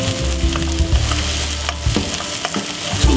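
Onion frying in hot oil over medium heat, a loud, steady sizzle and crackle close by with occasional stirring scrapes, no voices.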